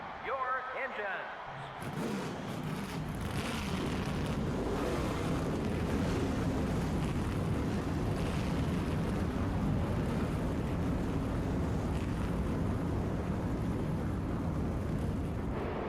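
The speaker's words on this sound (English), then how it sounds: "Gentlemen, start your engines." A field of stock-car engines fires up together in NASCAR Thunder 2000, the racing video game, swelling within two seconds into a loud, dense, steady roar that holds for the rest of the clip.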